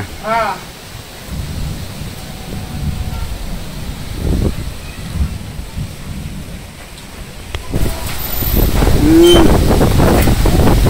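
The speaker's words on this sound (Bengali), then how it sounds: "খুব বাতাস ছুটছে অনেক।" Strong wind roars and gusts steadily before a storm in a Bangladeshi village, with a distant rumble and rain building toward the end; no one speaks.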